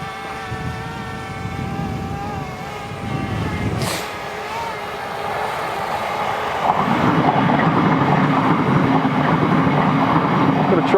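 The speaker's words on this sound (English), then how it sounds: "Got a train going by." A train passes at a distance outdoors, a steady low rumble and rolling roar that swells and grows louder in the second half, with a brief sharper burst near four seconds.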